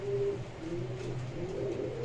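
Indian Bombay pigeons, a large breed, coo softly in low, wavering calls against a faint, steady background hum; the birds sound close but quiet, with no voices present.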